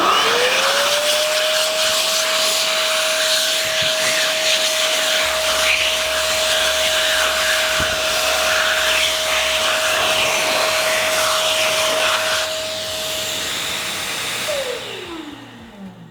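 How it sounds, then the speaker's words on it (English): A Beaver ECO hand dryer blows continuously and loudly for about fourteen seconds while wet hands are dried beneath it, its motor holding a steady whine before spinning down and fading at the end. "over here under the hand dryer"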